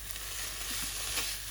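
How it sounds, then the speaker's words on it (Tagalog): Homemade spring rolls crackle and sizzle in an air fryer with no added oil, a steady close hiss with faint scattered pops throughout. "Prito, lalabas ng oil."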